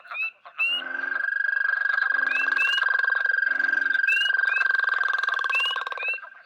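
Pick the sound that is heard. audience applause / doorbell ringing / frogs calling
frogs calling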